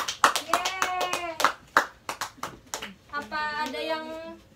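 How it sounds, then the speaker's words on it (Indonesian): Fourth-grade schoolchildren in a classroom clap together in several quick bursts of sharp handclaps, while a voice cheers between and over the claps. "Beri tepuk tangan."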